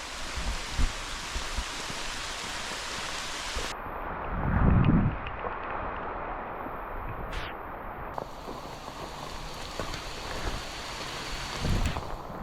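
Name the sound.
rain while hiking on a trail under a poncho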